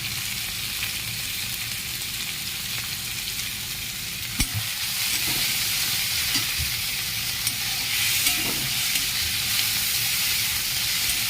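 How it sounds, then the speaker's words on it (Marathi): Onion and tomato sautéing in a pan for an ivy gourd (tondli) bhaji, a steady close sizzle and hiss of frying with occasional soft stirring clinks, no talk. "कांदा टोमॅटो थोडेसे परतून द्यावे।"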